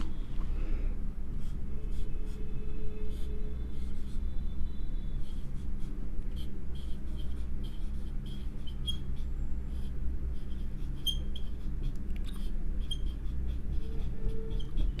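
Chalk or marker writing on a board during a statistics lesson: a series of faint, quick scratching strokes over a steady room hum, with no talk.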